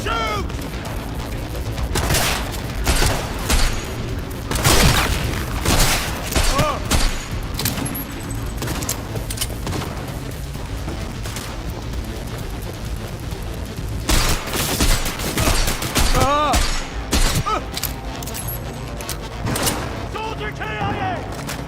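Heavy, sustained gunfire in the video game Cyberpunk 2077, dense overlapping bursts and sharp shots with mechanical clatter, loud and continuous with brief lulls and shouted voices mixed in.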